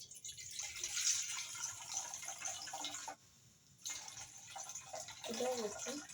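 Water poured into a cooking pot on a gas stove while preparing food for an eight-month-old baby, a steady splashing pour that runs about three seconds, pauses, then resumes, fairly close.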